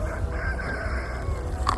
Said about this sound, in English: even the roosters are kicking off